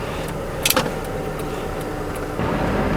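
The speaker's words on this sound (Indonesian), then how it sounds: "sekarang kita coba mobil ini untuk test drive" A 1988 Honda Civic LX on a test drive: steady interior road and engine rumble, a couple of brief clicks or rattles early on, and a slight rise in engine noise near the end, with no talking.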